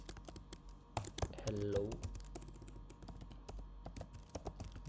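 Close computer keyboard typing on a PC, with brisk, irregular clicking of keys and a brief spoken word partway through.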